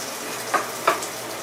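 Pre-cooked sausage meat dropped into a skillet, giving a soft frying crackle with two brief sharp sizzling bursts close together.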